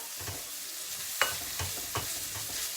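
Garlic and ginger paste being stirred into mince curry frying in a pot, with a steady hiss broken by several sharp scraping strokes of the spoon, the loudest near the middle, and no one talking.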